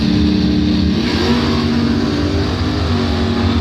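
A pair of doorslammer drag cars, one an '85 Trans Am, launch together at the Bonfire Salute race, their loud, dense engine roar rising in pitch as they accelerate continuously, close and unbroken for the whole stretch.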